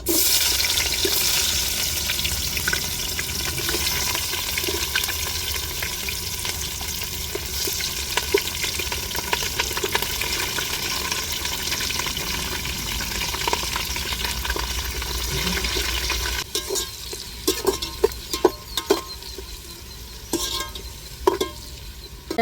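Onions, added after whole spices, fry in oil and get stirred in a pan, making a continuous close sizzle with scraping stir strokes; the sizzle drops off near the end, leaving sharp clinks and scrapes.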